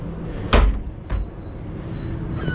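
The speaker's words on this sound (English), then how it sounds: "Close this door." The cab door of a Bobcat E85 excavator swings shut with a sharp, close thud, followed by a softer second knock about half a second later against a low outdoor background.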